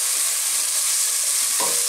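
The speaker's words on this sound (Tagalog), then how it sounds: "Haluin lang natin." Tomato and carrots frying in a pan as they are stirred, a steady loud sizzle with a brief scraping stir near the end.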